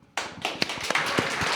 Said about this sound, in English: a special round of applause for our brilliant moderator today